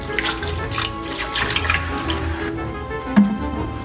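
Tap water runs steadily into a kitchen sink while beef short ribs are washed with vinegar and lemon, a close splashing rush with a brief louder splatter near the end.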